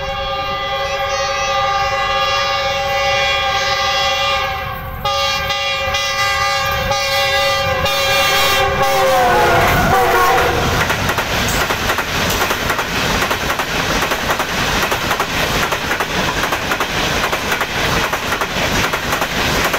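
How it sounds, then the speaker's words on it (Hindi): Green Line Express with new CRRC Tangshan coaches passing Jahania station, led by locomotive GEU 49004. A loud sustained multi-tone horn sounds first, then the train's rushing roar and wheel rumble fill the rest, close and continuous. "ये देखिए ट्रेन की लाइट विजिबल हो रही है।"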